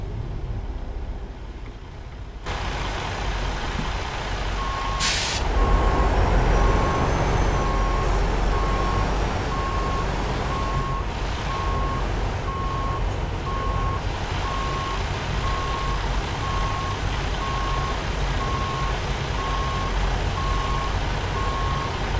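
A truck backs up a short trailer in American Truck Simulator. A steady diesel rumble runs throughout while a reversing alarm beeps evenly and repeatedly under it, with a brief hiss partway through.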